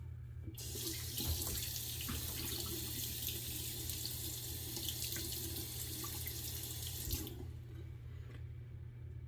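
A tap runs steadily into a sink as a Gillette open comb safety razor is rinsed under it. The close, even flow lasts about seven seconds and then stops, leaving a quiet room.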